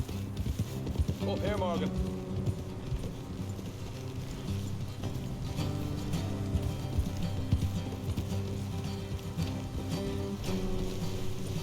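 Horse hooves clip-clop steadily on the ground in Red Dead Redemption 2, a continuous rhythm of several horses at a moderate distance under game dialogue and background music.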